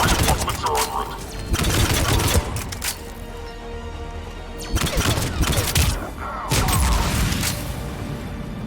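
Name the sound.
gunfire in the video game Mass Effect 3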